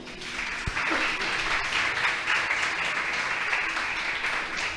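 A church congregation applauds during a Spanish-language sermon, giving a sustained round of clapping that stays even and moderately loud throughout.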